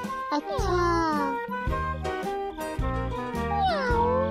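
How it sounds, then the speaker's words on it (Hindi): Several cartoon cats gathered on a moonlit night meow in turns, loud rising and falling cries stacked over one another, with a bright tinkling tone underneath. "मैंने इतनी बिल्लियों को एक साथ कभी नहीं देखा।"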